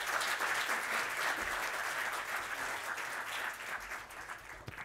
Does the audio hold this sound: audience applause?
yes